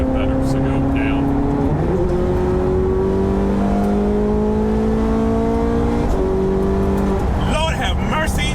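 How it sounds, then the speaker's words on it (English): Car engine revving hard as Honda VTEC engages, a loud sustained drone climbing through gear changes, with voices talking over it and a sharper rasp near the end. "The VTEC kicked in, yo."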